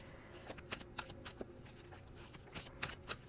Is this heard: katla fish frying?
no